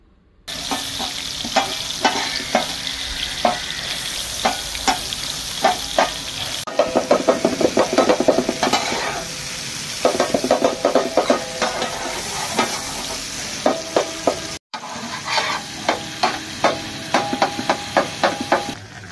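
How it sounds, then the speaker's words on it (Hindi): Tomatoes are mashed with a utensil on a hot tawa beside chicken, rhythmic tapping and scraping strokes over a constant loud sizzle, close up and without talk. "यहाँ पे टमाटर को हम मैश कर लेंगे इनका छिलका उतार के"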